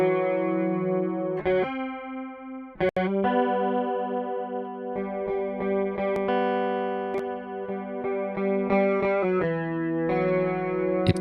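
Clean electric guitar notes and chords pass through a Soundtoys Little MicroShift chorus, giving a wide, gently warbling doubled tone with sustained ringing harmonics and brief pauses between phrases.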